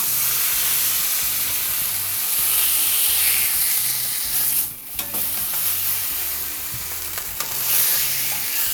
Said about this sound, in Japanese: 肉の表面をカリカリに焼いていきたいので、ここで少量のオイルを初めて入れます